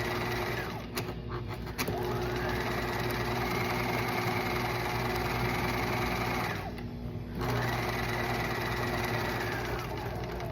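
A sewing machine stitches a fabric seam at a 5/8 inch seam allowance, running as a steady, close, continuous whir with brief dips, over faint background talk.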